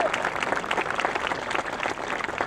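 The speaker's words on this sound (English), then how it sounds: "give them a round of applause for stepping up" Crowd applause at an outdoor court dedication in Long Beach, New York, steady dense clapping throughout, moderately loud, with no talk over it.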